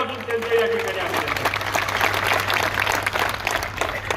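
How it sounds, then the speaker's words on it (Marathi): A large gathering of society members applauds loudly on request at a public meeting, a sustained roar of dense clapping from a crowd, with a voice briefly heard over it. "सगळ्या सभासदांच्या वतीनं एकदा जोरात टाळ्या वाजून"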